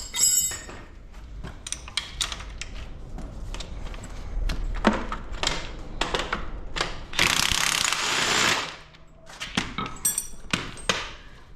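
Ratchet spanner clicking on engine bolts during cylinder head removal on a 2.0 Ecotec engine in a Vauxhall MK3 Astra project, with bursts of quick ratcheting strokes, clinks of tools and a longer steady ratchet run, close up with no talk.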